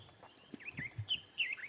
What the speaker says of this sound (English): You can hear an oriole calling.